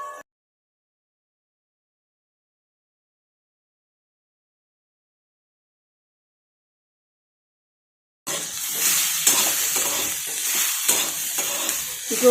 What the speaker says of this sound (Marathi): आता चिरलेली भेंडी टाकून घेऊ।